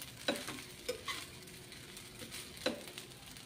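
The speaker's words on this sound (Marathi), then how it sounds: "तर एक आता 5 मिनिट मी व्यवस्थित ही साबुदाणा खिचडी परतून घेते अगदी मंद आचेवर" Sabudana khichdi stir-fried in a pan on low flame, faint soft sizzle with a few quiet scrapes and taps of a spatula.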